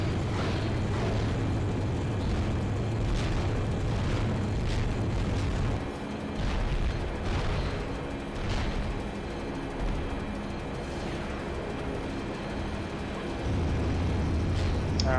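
Explosions and gunfire in the Battlefield 2 AIX game, a continuous loud rumble with repeated booms and crackling shots layered over a heavy low drone.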